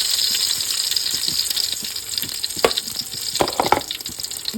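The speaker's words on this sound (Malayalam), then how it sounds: "ഉരുളി ചൂടായി വെളിച്ചെണ്ണ ഒഴിച്ചു കൊടുത്ത് അതിലേക്ക് നമ്മൾ കുറച്ച് കറിവേപ്പില ഇട്ട് കൊടുക്കുന്നുണ്ട്" Curry leaves frying in hot coconut oil in a pan, a bright continuous sizzle with scattered pops and stirring clatters, close and fairly loud.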